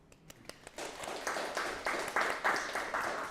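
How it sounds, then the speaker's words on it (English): Audience at a cryptography talk applauding for five Malaysian project winners: scattered claps at first quickly build into a fuller, steady round of applause that is fairly quiet and distant. "Let's give a round of applause to 5 of the projects Malaysian winners in Scroll Open."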